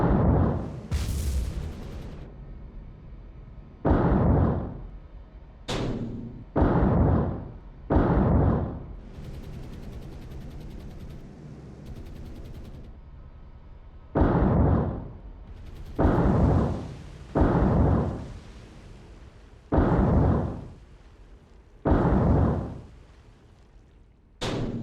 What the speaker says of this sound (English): Swarmed, Exeter was struck by 20 torpedoes